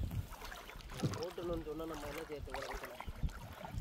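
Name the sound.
wooden raft moving on a river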